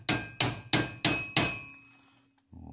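Five evenly spaced, sharp metallic hammer blows drive a broken drill bit into a hole, each strike ringing briefly before the next, then a pause and a faint clatter.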